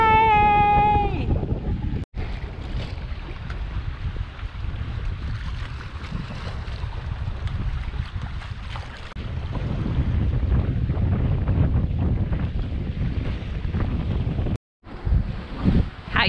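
A sailboat under way on open water on a sunny day, with steady wind buffeting the microphone, rushing water and low rumble throughout, a brief whistle-like tone at the start and a voice cheering.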